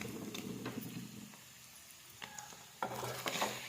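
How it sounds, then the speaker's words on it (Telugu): Paneer pieces frying in a pan for a home-style paneer biryani, a faint soft sizzle with a few light stirring clinks and scrapes, quiet and close. "ఈ పన్నీర్ పీసెస్ మనం గోల్డెన్ బ్రౌన్ కలర్ వచ్చేంత వరకు ఫ్రై చేసుకోవాలి"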